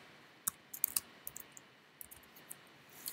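Quiet typing on a computer keyboard, a scattered run of light key clicks in small irregular bursts, close and faint with no talking.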